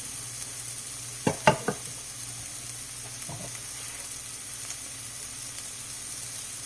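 Shrimp and chicken fried rice frying in a hot pan, a steady soft sizzle throughout with a few brief clattering stirs or utensil knocks in the first half.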